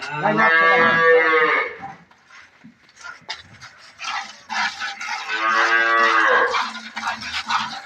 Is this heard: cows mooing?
yes